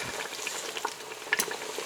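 A pot of lasagna noodles boiling on a home stove gives a steady bubbling, sizzling hiss, close by, with a few faint clinks and no talking.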